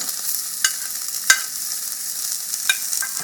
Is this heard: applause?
no